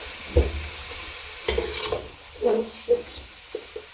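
Wai Wai instant noodles are stir-fried in a pan with a soft background sizzle, punctuated by several distinct scraping and tossing strokes of a spatula at an uneven rhythm.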